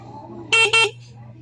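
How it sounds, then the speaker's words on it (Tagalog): A Yamaha YTX 125 motorcycle horn gives two short, loud beeps in quick succession over a faint, steady low hum. "testing na tayo sa ating busina."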